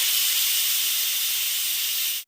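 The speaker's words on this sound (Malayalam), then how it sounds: "4 വിസിൽ ആയിട്ടുണ്ട്." A pressure cooker full of masala chicken releases steam as a loud, steady hiss that holds for about two seconds and then cuts off abruptly. No one speaks over it.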